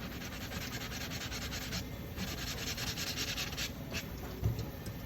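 A plaster dental cast on a mounting plate is sanded by hand, a steady close scratchy rubbing that continues evenly throughout at modest loudness.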